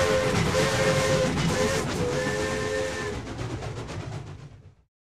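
A passenger train pulls into a station with a loud, steady rumble and sustained whistle-like tonal squeals, then the noise cuts off abruptly near the end.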